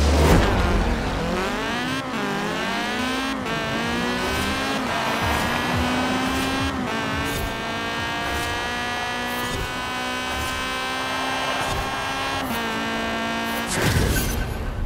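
A car racing in Forza Horizon 4: a loud, continuous engine drone that rises through the gears, with shifts and brief dips and a final surge near the end, with no talk.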